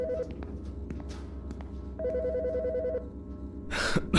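A telephone in the Autopsy Simulator medical examiner's office rings in two clear electronic bursts, a short one followed by a longer trill, fairly loud over a soft game background hum.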